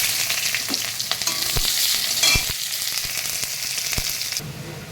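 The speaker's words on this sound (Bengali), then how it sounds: "পেঁয়াজ ভাজা হয়ে গিয়েছে" Onions fry in hot oil with bay leaf and dried red chilli, a dense, moderately loud sizzle with scattered stirring clicks and scrapes, no speech.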